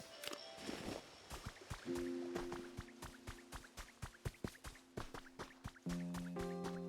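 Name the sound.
player-made waterfall in the video game Pokemon Pokopia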